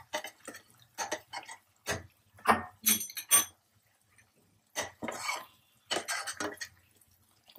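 Spoon scraping and clanking against a pan while paneer curry is stirred, a string of uneven metallic knocks and scrapes up close with short quiet gaps between them.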